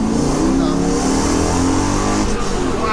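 A Mercedes C43 AMG track car with a swapped-in 5.5 V8 accelerates hard in second gear, its loud, continuous engine roar rising steadily from up close throughout.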